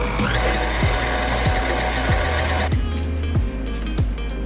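Electric hand mixer running steadily as eggs and vanilla extract are beaten into butter and sugar, a continuous whirring hum with repeated clicks of the beaters against the bowl, close and loud with no talking.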